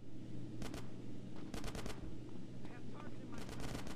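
Machine-gun suppressing fire in a Grand Theft Auto game, several short rapid bursts of close automatic fire spaced over a few seconds above a steady droning background hum.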